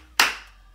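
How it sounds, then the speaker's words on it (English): One sharp hand clap during a street dance routine, crisp and close, with a short decaying ring in a quiet room. "This time the claps are low."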